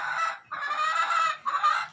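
Newly arrived geese honk in a pen, three loud, close, nasal honks in quick succession with brief gaps between them and no voices.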